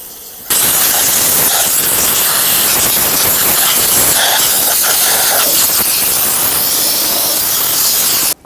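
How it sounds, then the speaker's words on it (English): Compressed air blasts steadily from a nozzle to blow brake parts cleaner off a 1997-2006 Jeep Wrangler 2.4L engine's valve cover area: a loud, continuous close-up hiss lasting about eight seconds, then cutting off abruptly. "I'll use some compressed air and blow the brake parts cleaner off"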